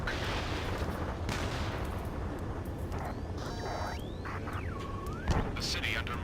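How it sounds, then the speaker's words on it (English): Gunfire rattles under the continuous roar of jets over a city under martial law in the flight combat game Ace Combat 7: Skies Unknown, with bursts and sweeping electronic tones over a dense, steady rumble. "Gunfire and the roar of jets echoing through the streets."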